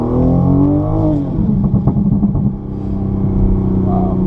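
A tuned 2020 Toyota GR Supra rated at 416 hp accelerates with a loud, raspy exhaust drone that climbs and then crackles, heard from inside the car alongside faint voices.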